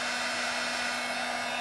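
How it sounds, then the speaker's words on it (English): A hair dryer blows with a steady, loud, close rushing whoosh and a constant motor hum, with no other sounds. "especially with the hair dryer"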